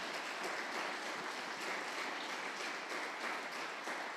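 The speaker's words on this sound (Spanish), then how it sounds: "denle un aplauso al Señor" A church congregation breaks into steady, dense applause that holds at an even level throughout, with no voices standing out above it.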